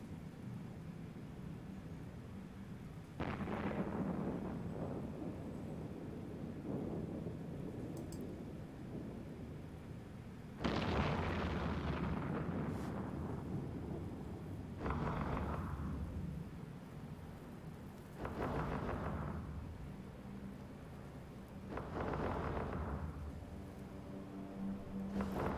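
Missile explosions in the EVE Online space game, fighting Gurista pirates: a series of deep, rumbling booms at irregular intervals, each swelling and then fading like distant thunder, over a low steady drone.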